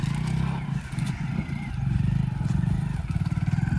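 A motorcycle engine idles and rumbles up close with a steady low throb, some clattering mixed in, and its pitch rises slightly toward the end.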